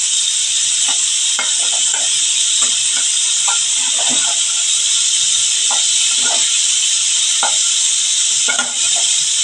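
Prawns sizzling in a pan of hot oil after being flipped, cooking for a ridge gourd and prawn dish, a steady loud hiss with scattered scraping stir sounds throughout.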